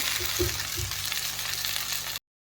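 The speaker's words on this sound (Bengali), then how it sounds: "হালকা হালকা ভাজা হয়ে যাওয়ার পরে ভেন্ডিগুলো দিয়ে দিতে হবে।" Okra (bhindi) fries in a pan with cumin, onion and green chilli, giving a steady close sizzle with a couple of soft low thumps from stirring.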